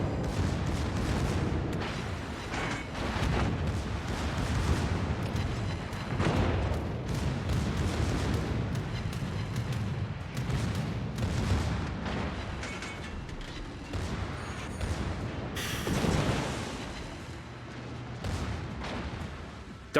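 Dense, continuous naval battle from a warship video game, with heavy cannon fire and explosions rumbling almost nonstop at high volume, broken by brief sharper blasts and a louder burst near the end.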